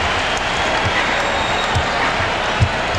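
Arena crowd at a 1998 NBA Finals game between the Utah Jazz and Chicago Bulls cheering after a three-pointer, a loud sustained roar filling the space with faint bouncing thuds underneath.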